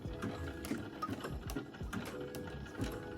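A sewing machine runs a zigzag stitch over swimwear elastic that is pulled taut from behind, giving a fast, even, close mechanical chatter with soft rhythmic thumps throughout.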